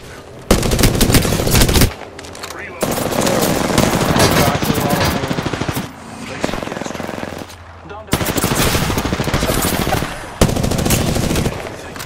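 Loud, close automatic gunfire in the video game Apex Legends, in long sustained bursts separated by short pauses, with rapid rattling shots filling most of the stretch.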